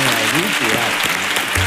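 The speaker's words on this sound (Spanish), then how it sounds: "Aplaudan eso." Applause from a studio audience at a televised talent show, a short dense burst of clapping with voices talking over it.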